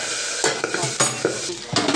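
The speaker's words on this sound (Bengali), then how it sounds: "মাছটা পুরো ভাজা হয়ে গেছে" Singhi fish rubbed with salt and turmeric fries in a little oil, a close sizzle broken by quick spatula scrapes and taps against the pan at an uneven rhythm.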